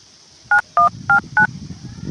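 A telephone is dialed, four crisp keypad tones evenly spaced in quick succession, then a faint room hum with no talking.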